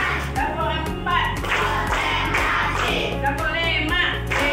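A class of children clapping in rhythm, sharp group claps landing in counted bursts, loud and close, with an adult voice calling out the counts between them.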